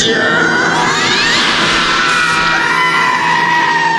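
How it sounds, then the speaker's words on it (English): A radio sound effect of a crowd of people screaming and yelling on a sports talk station, loud and continuous with overlapping shrieking voices filling the whole stretch. "Why is everyone screaming?"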